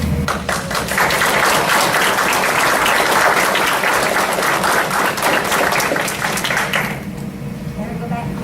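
Loud, full applause from people at a Van Alstyne city council meeting fills most of the clip, then fades out after about seven seconds as background murmur remains.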